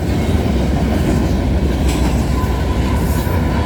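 A freight train with a distributed-power (DPU) locomotive rolls past at night beside the VIA station in Cobourg, Ontario. The rumble and wheel noise are loud, close and continuous, with no voices.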